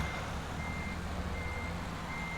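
In American Truck Simulator, a reversing truck's engine groans in a steady low rumble under a faint continuous reversing tone, a dense unbroken drone with no talking.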